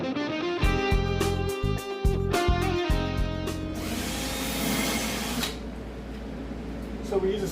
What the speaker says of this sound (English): It actually makes it easier when you're drilling to use a smaller bit